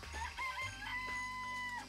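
Chickens in a coop from the Danganronpa video game, a few clucks followed by a drawn-out crow-like call, clear and fairly close with no voices.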